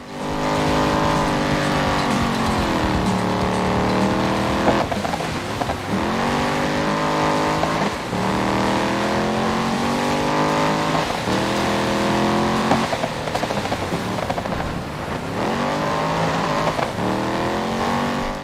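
A racing car engine in the game Dirt 5 roars continuously, revving up repeatedly through gear changes, each pitch climb followed by a brief drop, loud and close throughout.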